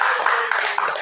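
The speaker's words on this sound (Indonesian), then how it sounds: "Tepuk tangan untuk kalian yang nilai 10." A classroom of automotive engineering students clapping for classmates who scored 10 on a test, a brief burst of fairly close, busy clapping with soft irregular taps.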